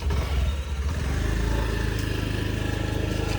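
A two-wheeler engine runs close by as a man rides off, a steady low putter that holds at a constant level throughout, loud and near with no voices over it.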